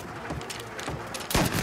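Gunfire in a Mafia: Definitive Edition shootout, with several sharp shots scattered across a short stretch and a louder, heavier blast near the end, likely a shotgun, all over busy game sound.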